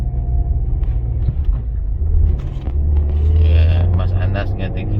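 A 2022 Toyota Veloz with manual transmission and front-wheel drive climbs a steep, extreme hill at Ijen, its engine rumbling loud and close and building as it gains speed, with people talking inside the car.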